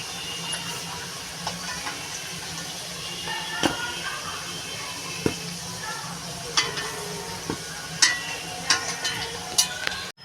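Chicken sizzling steadily in a hot pan for a Bengali-style chicken curry, with scattered clicks and pops from stirring and spattering oil throughout.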